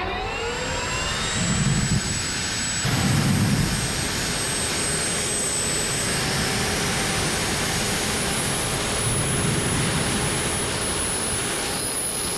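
A jet-powered Amish buggy roars down a racetrack, its steady, loud jet-engine howl with a high whine running continuously throughout, swelling in a few broad bursts.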